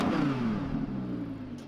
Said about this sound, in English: it also has one of the best sounding exhaust on the market